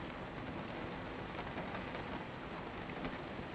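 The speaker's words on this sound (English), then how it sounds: "The rain." Steady, even rain falls with a dense hiss of drops on surfaces, continuous and moderately quiet, with no voices over it.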